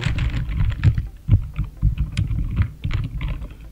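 Fingers tap on a computer keyboard while a certificate is laid out on screen, giving a quick, uneven run of close, soft clicks with brief pauses between bursts.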